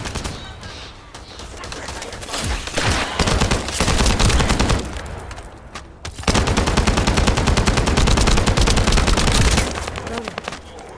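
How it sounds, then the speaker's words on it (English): Rapid automatic gunfire from the video game The First Descendant crackles in dense bursts, with a short lull before a long, loud sustained volley that then tapers off. "That stopped the gunfire."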